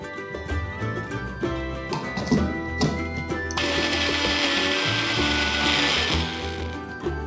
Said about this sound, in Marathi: आणि पाण्याचा अजिबात वापर न करता मिक्सरमध्ये याची छानशी पेस्ट तयार करून घ्यायची.